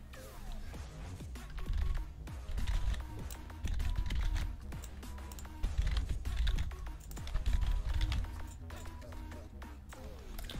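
Fast, steady clicking of a computer keyboard as a password is typed during a Minecraft server setup, close and continuous under light background sound.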